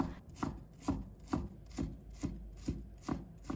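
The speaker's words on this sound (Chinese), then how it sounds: "再改刀切成姜丝。 然后切成末" A knife minces peeled fresh ginger on a cutting board, striking about eight times in a steady, even rhythm, each stroke a close, soft thud.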